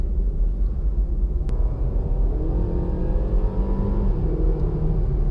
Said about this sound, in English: Oh wow, the transmission is actually really, really eager to shift. It's super eager to downshift.